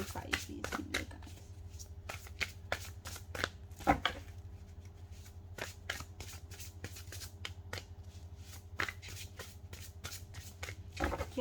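A deck of tarot cards is shuffled close by, with soft, crisp riffles and taps coming in irregular bursts throughout and a low steady hum underneath.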